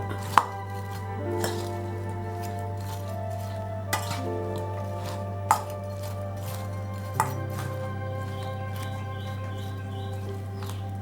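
A spoon stirring ladies finger dry fry with Kashmiri chili powder in a pan, with scattered clinks and scrapes against the metal over a steady low hum and no talking.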